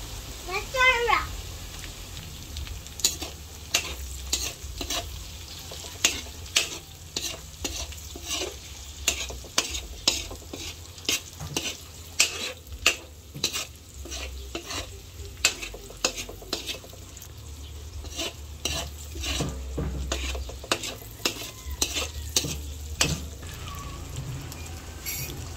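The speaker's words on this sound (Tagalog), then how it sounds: "Nailagay ko na din po itong giniling. Atin pong hahaluin." Ground pork frying in a pan with garlic, onion and hotdog for spaghetti sauce, a soft steady sizzle broken by frequent sharp scraping clicks of a utensil stirring, close up, with a voice and talk in the background.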